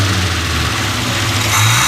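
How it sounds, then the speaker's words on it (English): Devon A40 restomod car engine with a two-barrel progressive carburetor accelerating gently, a close, steady low engine drone that rises slightly at the end, no talk. "If I accelerate a little slower,"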